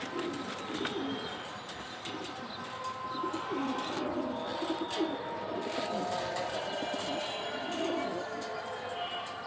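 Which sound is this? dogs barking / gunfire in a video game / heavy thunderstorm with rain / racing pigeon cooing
racing pigeon cooing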